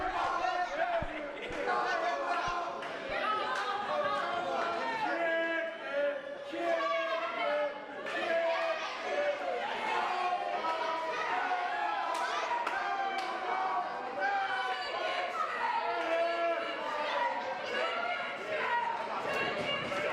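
A loud, raucous crowd at a wrestling show shouts and cheers continuously, many voices overlapping in energetic chanting and yelling.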